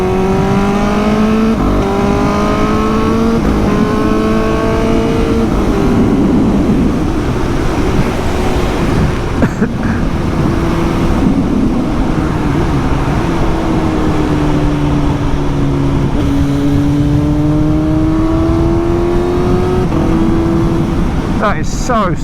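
A Suzuki GSX-S 750 motorcycle with a Translogic quickshifter being ridden on the road, its loud engine revving up and down through smooth, quick gear changes with steady wind rush throughout, no talk over it.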